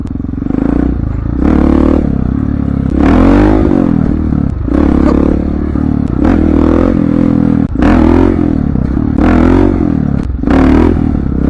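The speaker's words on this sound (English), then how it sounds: "compress the front forks, weight back into a wheelie, and then close the throttle and lean forward" Motorcycle trying a wheelie bunny hop, loud close engine bursts revving up and dropping off in repeated pulses, with clattering between throttle blips.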